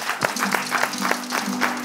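A slam poetry audience in Togo claps in a quick, uneven patter of distinct hand claps, close and fairly loud, over a faint steady low hum.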